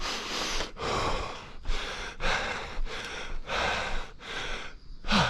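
A man catches his breath after a fartlek run, heavy rhythmic gasping breaths, about eight forceful inhales and exhales, close and loud with no words.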